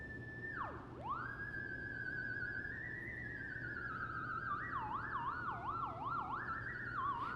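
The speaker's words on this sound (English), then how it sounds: "that's a theremin that's kind of making like spooky Halloween sounds" A wavering electronic tone slides down and up in eerie, swooping glides, then wobbles in a quick vibrato, sustained and fairly loud over a steady background hum.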